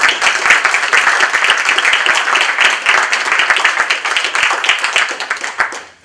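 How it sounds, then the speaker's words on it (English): An audience gives a round of applause to welcome a speaker to the podium, dense, steady clapping from many hands that stays loud throughout and tapers off at the very end. "we can thank him and welcome him with a round of applause"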